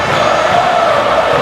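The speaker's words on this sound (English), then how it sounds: "Listen to this crowd here in Las Vegas." Wrestling arena crowd in Las Vegas roaring and chanting during a tournament event, a dense, steady, loud wall of cheering voices with no single voice standing out.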